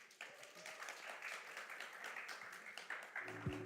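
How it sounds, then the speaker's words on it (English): Audience applause at the Cosmoverse 2024 conference in Dubai after a panel, fairly faint and distant sustained clapping with a brief low sound near the end. "please, round of applause"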